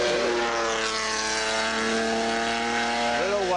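A Porsche race car drives a lap during a high-performance driving event at Bridgehampton, its engine holding a loud, steady tone before the pitch shifts near the end as it changes speed.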